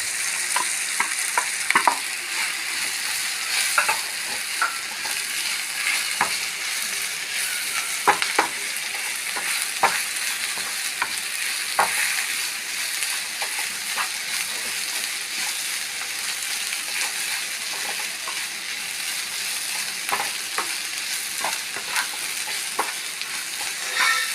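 Grated coconut mixture fries steadily in a pan for a green peas mezhukkupuratti, a continuous bright sizzle broken by repeated scraping stir strokes, close and even throughout with no talking.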